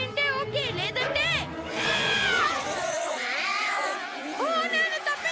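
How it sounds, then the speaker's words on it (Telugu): Several cats meowing and caterwauling in quick succession, near and fairly loud, mixed with wailing yowls, with a voice speaking in between. "ఇక్కడ ఒకటి కాదు చాలా క్యాట్స్ ఉన్నాయి"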